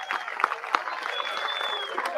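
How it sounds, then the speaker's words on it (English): Audience clapping for returning dinner guests at a West African dine-and-discover event, a steady wash of many hands with a few sharper claps standing out, moderately loud and continuous throughout. "Just give them a round of applause."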